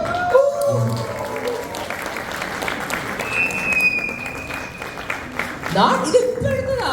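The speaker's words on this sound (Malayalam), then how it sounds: "നന്നായി കൈയടിച്ച്" An audience claps together in a steady, dense round of applause at close range, with voices speaking over it at the start and end.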